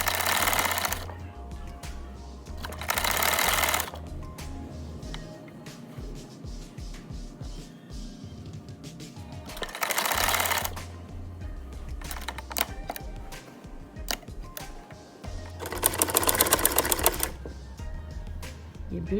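A sewing machine runs in short repeated bursts while stitching the shoulder seam of a kurta, fast rattling whirs separated by pauses and quieter handling sounds, close and fairly soft.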